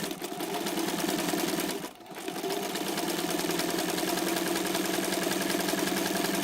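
A vintage Janome New Home sewing machine runs steadily through a tight zigzag satin stitch, a loud continuous mechanical whir with a rapid needle rhythm and one brief slowdown near the start.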